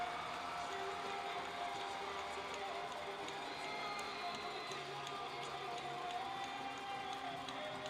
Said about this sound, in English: Stoya gets the crowd going as he heads off to the box,